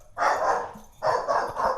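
A pet dog barks in two loud, close bursts indoors, each a sustained volley lasting most of a second with a short pause between, heard alone with no talk.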